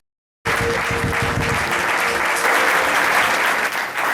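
After a brief silence, a church congregation bursts into loud, dense applause that holds steady to the end.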